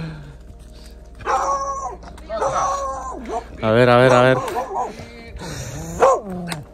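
Three dogs bark in bursts over several seconds on a mountain, fairly close, with someone speaking briefly between the barks.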